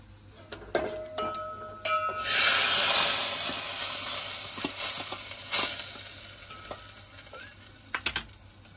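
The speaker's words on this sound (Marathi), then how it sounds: "त्यामध्ये काजू सोडायचे, पूर्ण भाजून घ्यायचे काजू." Cashews roast in hot ghee in a pan for rice kheer, a steady loud sizzle with broad hiss, a spatula stirring and scraping through it, and a few light metallic clinks near the start and end.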